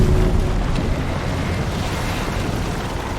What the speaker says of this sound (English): here's the sound a boat makes when it's sunk.